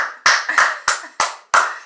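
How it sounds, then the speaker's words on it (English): One person claps hands five times, sharp, loud and evenly spaced, each clap ringing briefly in a quiet room. "I have to give you a clap here"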